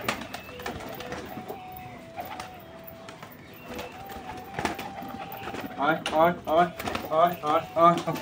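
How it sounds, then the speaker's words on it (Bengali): A pigeon coos softly near a bamboo pole at dusk under steady background noise. A person speaks excitedly over the later part of the clip. "গাইজ একটা পায়রা এসেছে গাইজ, এই দেখো এই যে একটা পায়রা"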